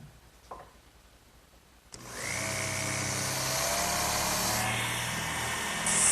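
A power drill boring holes into the wooden base of a kitchen hutch starts after a quiet pause with a sharp click, then whines steadily at full speed, its pitch shifting slightly as the bit cuts.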